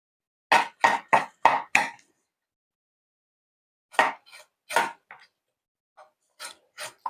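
Charred skin is scraped off roasted vegetables in short rasping strokes: a quick burst of five close scrapes, a pause, then slower, irregular scrapes, crisp and near with silence between.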